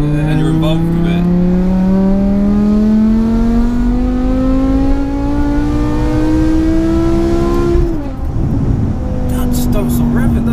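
A supercharged 5.2-litre BMW E60 M5 engine revs loudly and climbs steadily in pitch under acceleration, briefly dropping before rising again, heard close from inside the car.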